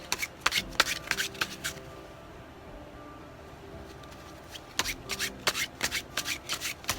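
Tarot cards are handled and shuffled close by in a quiet room, with bursts of quick riffling and flicking at the start and again near the end and softer rubbing in between.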